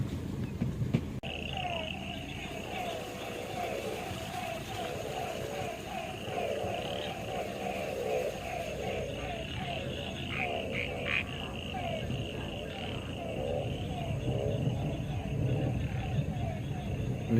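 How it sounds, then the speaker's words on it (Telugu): Frogs croaking at night during the rainy season, a dense rhythmic chorus of repeated croaks at middle distance running throughout, with a low rumble underneath and a voice speaking over it. "విన్నారు కదండి కప్పల సౌండ్."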